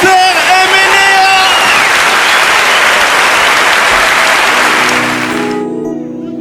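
An audience at a live concert at the Olympia in 2008 bursts into loud, dense applause. The applause follows a brief stretch of voice and music and runs for several seconds before fading out near the end.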